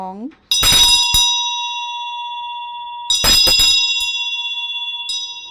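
Bright white metal bells struck three times, each ring clear and sustained, with a short spoken phrase at the very start before the first strike.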